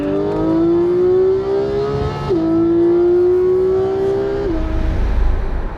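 A race car engine revs in long sustained pulls, climbing steadily in pitch, dropping sharply, then climbing again. It is loud and close, with no talk.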